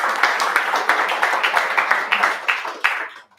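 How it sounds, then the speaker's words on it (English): Clapping for a speaker at an incubator program's graduation party: a small group's brisk, evenly spaced claps, close and clear, running steadily for a few seconds before stopping abruptly. "Round of applause for Simon from Favors."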